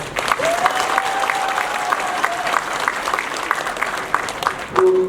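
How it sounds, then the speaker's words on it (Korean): Loud, sustained applause from an audience fills a party members' education meeting in a community welfare center auditorium in Ansan, with dense clapping throughout, a steady whistling tone partway through and a brief louder swell near the end. "강 의원님. 네, 큰 박수 부탁드리겠습니다"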